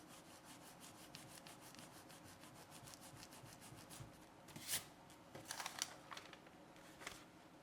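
A latex eraser rubs back and forth on paper in quick, close, dry strokes, faint and steady at first, then growing scratchier with a few louder bursts near the end, with no voices.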